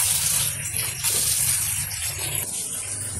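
Tap water runs steadily into a sink, washing fish and vegetables for an Assamese fish curry, a constant close gushing hiss with no voices over it.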